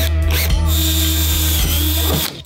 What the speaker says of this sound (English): make sure the drill is squared up with the deck lid